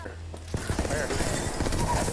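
Gunfire from Apex Legends, including three-round bursts, bangs out as sharp repeated shots after a brief quiet start, dense and close over continuous game background noise.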